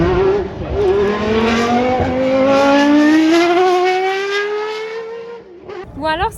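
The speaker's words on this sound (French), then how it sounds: "Les voitures faisaient un bruit de fou furieux" A loud historic Formula 1 race car at the Grand Prix de France Historique screams past close by. Its engine note climbs steadily in pitch and then drops away as the car passes.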